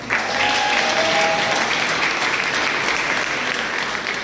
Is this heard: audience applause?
yes